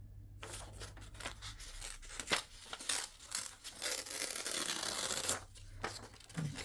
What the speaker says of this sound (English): And we'll tear this.